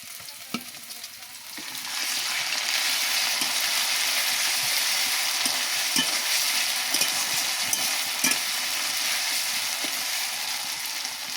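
Chopped onions sizzle in a pan for a homestyle chicken and potato curry. Garlic paste goes in, and the frying swells into a loud, steady hiss, broken by faint clinks and stirring.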